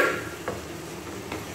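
A meat spice mixture stirred in a pan, with soft scraping and a faint sizzle and two light clinks of the utensil against the pan, close and quiet with no talking.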